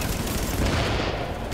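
Rapid automatic gunfire from a heavy-recoil gun in Tom Clancy's The Division, a loud, dense, continuous burst filling the whole moment with no pauses.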